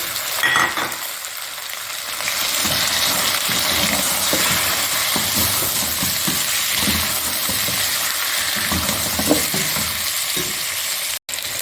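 Chicken pieces frying in a pot for chicken pulao, giving a close, loud, continuous sizzle with occasional stirring scrapes and no talking.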